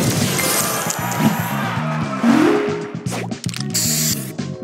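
Spray booster effect from the mobile puzzle game Match Masters: a bright hiss with glassy clinks and chimes over a steady stream of game tones and jingles, busy and close throughout.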